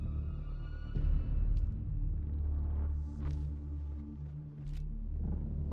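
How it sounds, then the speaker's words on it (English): Low, sustained rumble of an approaching storm in the video game Dune Awakening, swelling and fading with faint higher crackles on top, no talking. "Sounds like there's a storm coming."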